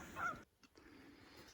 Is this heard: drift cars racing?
no